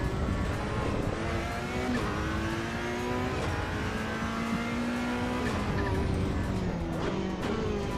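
Ferrari race car in the AC EVO racing simulator, engine screaming through rapid upshifts and downshifts with brief tyre squeal, loud and continuous from start to finish.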